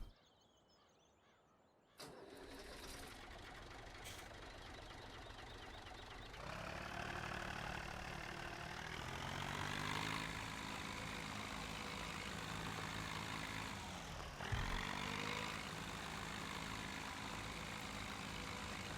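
A big Massey Ferguson tractor idles in Farming Simulator 17, starting abruptly after a quiet moment and settling into a steady, droning engine hum that gets a bit louder partway through and keeps going without talk.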